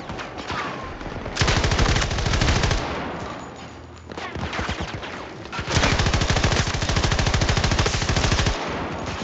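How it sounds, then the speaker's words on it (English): Light machine gun fire in Battlefield 2042 comes in two long, loud, rapid bursts, each lasting a couple of seconds or more, with a short, quieter gap between them. "That's the problem with an LMG."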